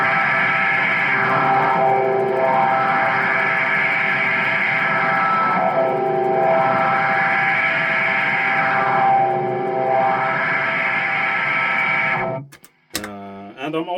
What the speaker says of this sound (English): the seventh harmony added to the whammy, and also using the sweep of the wah while I'm tremolo picking the low string here